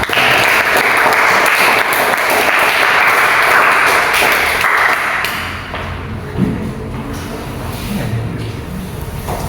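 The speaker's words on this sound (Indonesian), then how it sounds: "silakan kembali dan kita beri aplaus untuk kelompok 5" A classroom audience claps for a student group after its presentation, loud sustained applause for about five seconds that then fades into scattered claps, thumps and room noise.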